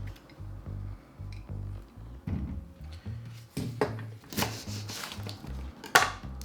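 A knife cuts and peels the dry skin off a medium potato on a kitchen board, giving a run of close, irregular scraping and tapping strokes over a low, steady background hum.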